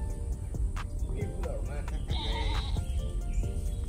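Goats at a farm bleating in several short, wavering calls spread across a few seconds, close by, mixed with people talking and outdoor rustling.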